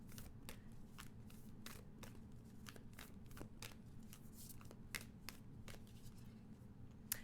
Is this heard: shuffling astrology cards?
yes